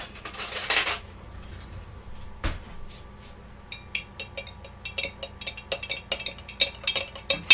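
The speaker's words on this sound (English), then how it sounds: "Excuse me as I get a spoon." A metal spoon clinks and scrapes against a container while a coconut oil deodorant mix is fetched and stirred, with one sharp knock followed by a run of quick, irregular close taps and scrapes.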